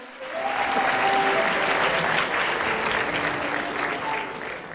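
Audience applause at a gathering honouring special children swells quickly into a dense, sustained round of clapping, loud and steady before tapering slightly, with faint voices beneath.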